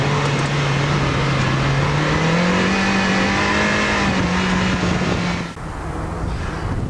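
An autocross race car runs a traffic-cone course, its engine a steady, loud, close drone that climbs gradually in pitch and then eases off near the end.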